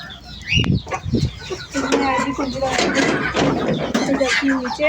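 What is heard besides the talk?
chicken clucking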